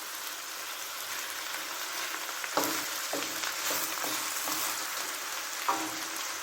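Onions and garlic stir-fry in a hot pan for a stir-fry chicken with vegetables dish, giving a steady, close sizzle with a few sharper spatula scrapes and stirs.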